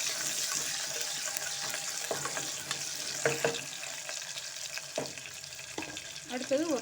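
Green chillies and curry leaves sauté in hot oil in a pan with a continuous crackling sizzle, punctuated by occasional stirring knocks, and a brief voice near the end.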